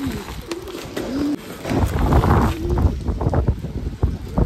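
Rain-soaked pigeons on a rooftop coo in soft, repeated low calls, close by, amid gusty wind noise and scattered taps and rustles.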